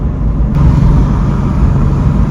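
Ford Mustang V8 or BMW accelerating hard in third gear from 60, a loud, close engine drone that swells steadily with a deep, rumbling tone.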